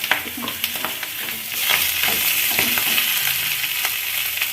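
Dum aloo masala frying in a pan, a loud close sizzle that swells and grows steadier partway through, with stirring scrapes and clicks on top.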